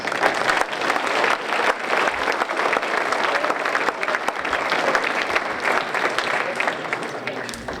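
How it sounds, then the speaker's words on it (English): An audience at a high school athletic Hall of Fame induction ceremony gives a steady round of applause for the inductees, the loud clapping sustained throughout and filling the hall. "How about a round of applause for our 5 inductees?"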